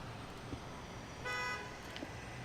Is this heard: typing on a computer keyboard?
no